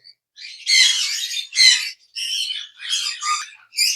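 Harsh, shrill squawking from lovebirds nearby, coming in several rapid bursts with short gaps between them.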